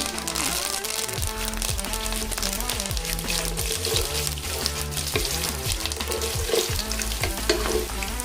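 Chana dal, cumin, four dried red chillies and curry leaves frying in oil for tomato bath, a loud busy sizzle with repeated rhythmic scraping and stirring strokes against the pan.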